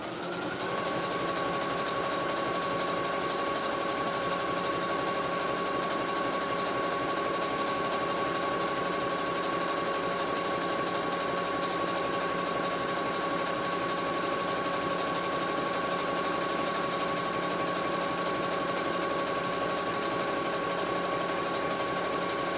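A sewing machine stitches the side of a fabric face mask. It hums at a steady, even whir that runs unbroken for the whole stretch, close up and with no talking.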